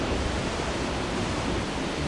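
Cascada de los Caballeros waterfall in Suaita, Santander, Colombia, heard from its upper area as a steady, dense roar of falling water, broad and unbroken throughout.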